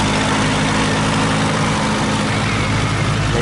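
A post-war J.I. Case tractor engine runs in a beach parade, a loud, constant low rumble with a steady idle-like drone throughout and no pauses.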